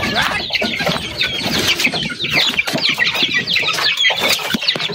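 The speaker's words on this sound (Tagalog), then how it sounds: "Mga alagang mga chikining." Backyard pet chickens clucking continuously and close by, a busy overlapping chorus of hens chattering with occasional wing flaps and rustling.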